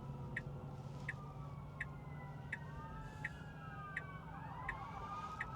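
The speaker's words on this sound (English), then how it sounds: "I hear ambulances, fire trucks." Distant ambulance and fire truck sirens wailing and overlapping, rising and falling in pitch over a steady low rumble of road noise, with a regular faint ticking.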